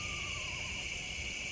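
A screech owl calls at night in the woods with a single descending, quavering whinny near the start, set against a steady high insect drone.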